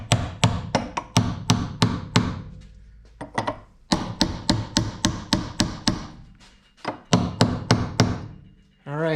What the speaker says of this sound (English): All right, 2-pound sledge. I think that's a medium whack.